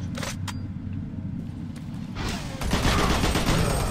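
Gunfire in Doom 3 BFG Edition, a continuous rattle of shots and mechanical clatter that grows louder and heavier toward the end.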